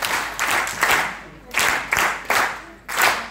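Audience applause at a project launch event, several bursts of clapping in quick succession, fairly close and lively, with some voices mixed in.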